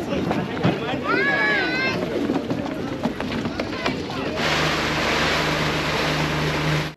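Boat MV Skid Jack at Ross Island in the Andamans, its steady engine drone taking over loud and near in the later seconds after an earlier stretch of talk and bird-like chirps.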